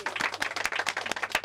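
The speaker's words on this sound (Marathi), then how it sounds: "त्यांच्यासाठी आपण जोरदार टाळ्या वाजूया" An audience at a Christmas and New Year 2025 gathering claps for a team, a brisk run of overlapping handclaps with a few sharper claps standing out, steady and fairly close throughout.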